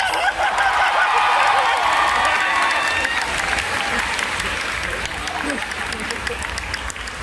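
Anime convention crowd at a Persona 5 courtroom-style panel applauds to cast a vote, a loud sustained clapping mixed with scattered voices and laughter that slowly thins toward the end.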